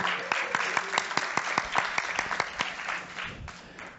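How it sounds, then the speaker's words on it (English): A conference audience applauds a panelist at a telecom software convention, with brisk clapping that fades toward the end under some talking. "big round of applause for Anthony"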